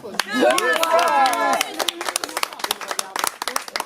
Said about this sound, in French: Les premières fois, ça s'est applaudi.